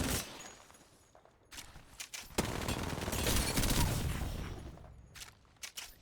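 Rapid automatic gunfire from an Apex Legends match, a sustained burst of shots fired during slide movement with footstep-like scuffs, loud and close, surrounded by brief single shots and pauses.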